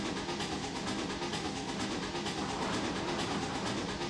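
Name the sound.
C&O train engine running in the Trainz 2022 video game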